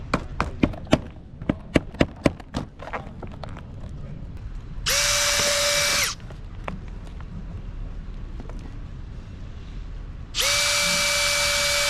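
A run of sharp taps and knocks, then two loud bursts of a power drill whining as it drills holes through sailboat rig shells, each lasting about a second, with quieter handling noise between.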